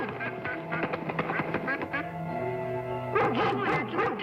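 A mallard duck quacks in a series of nasal calls, with a dog's yips or whimpers mixed in nearby, the sounds close and fairly loud.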